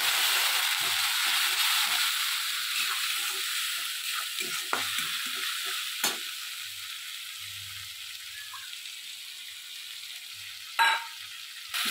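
Ground ginger, coriander, cumin, chilli and turmeric fry in a pan with a little water for a Bengali chhyachra vegetable dish: a loud sizzle at the start that softens into a quieter hiss, broken by a few sharp clinks.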